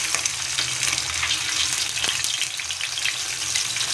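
Masala-marinated fish frying on a dosa griddle (tawa), with a steady crackling sizzle and small popping spatters throughout, close and without talk.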